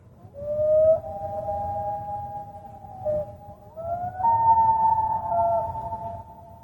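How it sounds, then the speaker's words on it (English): A common loon gives its long wailing call, clear, mournful tones that rise and hold over a quiet background, with no talking. "So that's the wail, right? That's the classic loon call."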